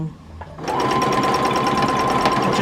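Sewing machine running steadily through free motion stitching on a Dresden quilt block, a continuous fast mechanical whir with rapid needle rhythm starting after a short quiet moment and staying loud and close.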